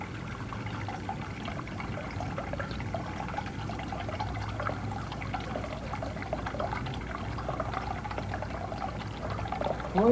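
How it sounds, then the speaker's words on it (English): Water slowly released from a bucket, a faint, continuous trickling pour with a soft, even flow throughout, quiet and steady with no voices. "When the water is slowly released from the bucket, this device lets the coil proportionately move slowly upward."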